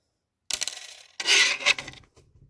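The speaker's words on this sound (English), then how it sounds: "Almost lost it. A penny." A penny drops onto a hard surface around a house, giving a bright metallic clatter with a few quick bounces, then a louder ringing spin that settles and fades, close and alone.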